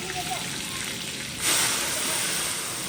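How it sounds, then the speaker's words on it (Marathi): Loud hiss of spices hitting hot oil for a dal tempering, swelling suddenly halfway through into a stronger sizzle. "ती देत आहे वरणाला फोडणी"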